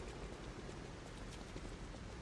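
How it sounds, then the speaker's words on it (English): Steady rain falls in the video game Lies of P, an even, soft hiss of drops on surfaces, continuous and fairly faint with no talk. "So I guess it's raining again."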